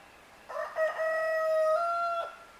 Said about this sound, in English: Them chickens can't stand me talking.